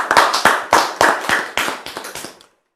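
A short burst of hand clapping in acclaim of the Lord, a few people clapping in an irregular quick rhythm, close and fairly loud, fading out after about two seconds.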